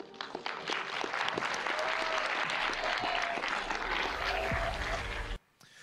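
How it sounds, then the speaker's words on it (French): An audience at a French conference event applauds in a sustained, even burst of many hands clapping, with faint voices underneath, ending abruptly. "Bon, ils ont l'air contents, ils applaudissent"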